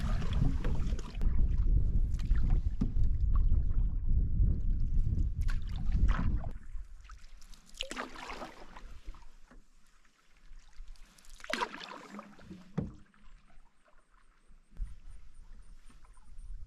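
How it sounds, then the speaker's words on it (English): Canoe paddling on Balsam Lake, with water swishing and splashing from paddle strokes, loud and near at first and then quieter, irregular dips and drips against faint wind. "Now paddling on Balsam Lake."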